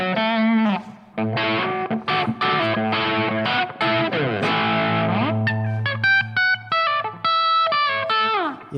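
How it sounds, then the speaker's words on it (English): Distorted electric guitar, a Japanese-made Electra Omega X210 Les Paul-style model, playing a run of chords and single notes, gritty and buzzing with a quacky, phasey edge, loud and up close. "Let's see what that number 5 sounds like with the distortion on."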